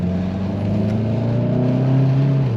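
A 2017 VW Golf GTI Mk7 with DSG gearbox and aftermarket exhaust accelerates, its engine drone heard from inside the cabin as a steady, loud hum that climbs in pitch over a few seconds.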